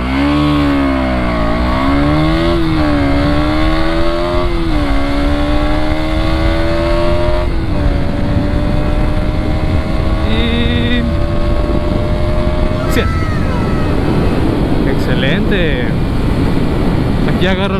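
A KTM Duke 200 NG motorcycle pulls hard through the gears in a 0-100 acceleration run, its engine note climbing and dropping at each shift, loud and close under heavy wind rush.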